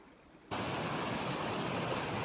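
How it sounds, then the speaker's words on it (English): A mountain creek flows in a Rockies valley behind Yamnuska, its steady, full rushing water starting abruptly after a quiet half second and continuing loud and unbroken. "So I'm down at the creek."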